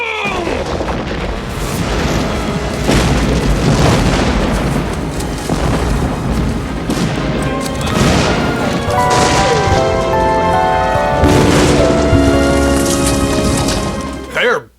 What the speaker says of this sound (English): Sonic Boom!